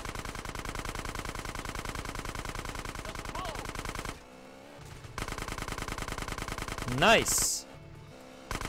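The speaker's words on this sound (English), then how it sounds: "Machine gun skill has been increased." Rapid machine-gun fire in GTA San Andreas, loud and close, with dense continuous bursts broken by a short pause and then resuming; a player's voice briefly exclaims over the shooting.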